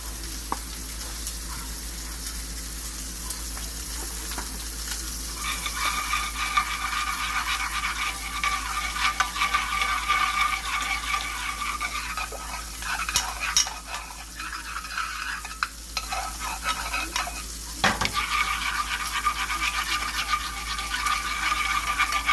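Flour is stirred into melted butter in a pan: a steady soft sizzle runs throughout with scraping, brushing strokes of a utensil against the pan, close and continuous, with no talking.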